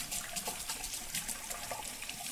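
Water running from a tap in a bathroom sink while a face is rinsed after a shave with a slant razor, a steady close splashing flow with brief splashes.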